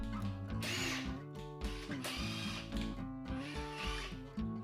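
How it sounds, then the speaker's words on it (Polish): An impact driver sinks a screw into a pre-drilled hole with a loud, close, rapid hammering rattle in pulsing bursts. Its pitch steps through several short surges, and no one talks over it. "A co jeśli nawiercimy otwór i wkręcimy wkręt wkrętarką udarową?"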